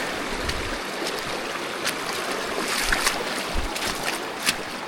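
River water rushes and babbles steadily throughout as a dog wades across, with brief splashy surges near the middle and end; no voices are heard.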